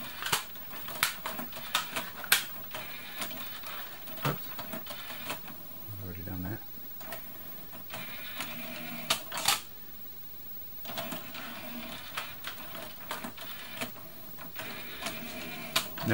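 A Mountain CD7 multi-disc CD-ROM changer on an Amiga 500 loads its discs with irregular mechanical clicks, clunks and whirring, close up, while someone talks over it.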